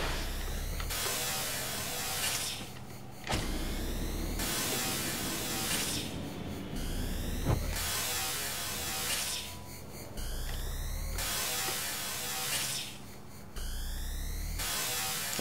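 Vacuum cleaner enemy in the G-Force video game, emitting a steady electric buzzing whir in repeated bursts that cut in and out with brief gaps, loud and close with sweeping tones over the top.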